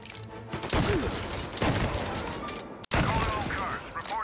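Gunfire in the Mafia video game: several loud shots and bursts ring out in quick succession, with a brief dropout between them.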